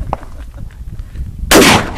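A shotgun is fired once, a sudden loud, close blast with a booming tail after a short stretch of quiet background.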